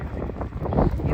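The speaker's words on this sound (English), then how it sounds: "it's extremely windy and cold out tonight" Strong, cold wind blows outdoors at night outside a jail in Washington DC, a rough, steady gusting roar buffeting the microphone, with no voices.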